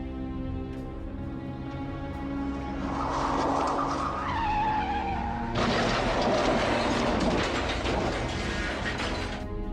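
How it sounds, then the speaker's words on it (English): Captured from a dashcam, a car struck by a flying pickup truck tire spins out of control, with loud tire squeals and skidding screeches over a steady engine and road drone. "The dashcam documented this surreal instance as the car whirled uncontrollably, causing the surroundings to blur."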